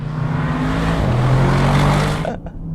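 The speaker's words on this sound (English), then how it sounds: "when you push on the gas pedal" A 2022 Audi RS7 engine accelerating hard: a loud, close, steady droning roar that rises slightly in pitch, then cuts back near the end.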